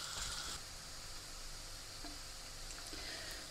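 Chopped onion salted and frying in a pan, a steady soft sizzle with occasional stirring clicks, faint and continuous with no talk.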